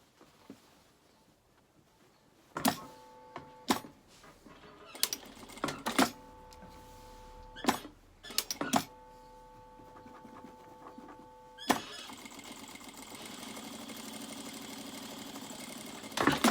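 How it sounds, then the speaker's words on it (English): Sewing machine stitching a centimetre seam from a trouser front hip pocket opening to the waistband, running in several short whirring bursts with pauses, then a longer steady run toward the end. "So you're going to sew from the base of the pocket opening to the waistband, centimetre seam."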